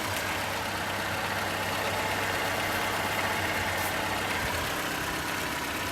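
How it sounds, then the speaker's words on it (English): An old first car's engine idles steadily, a close low rumble with a constant rough texture that holds evenly for the whole stretch without revving. "my other project was to see if my very first car would run"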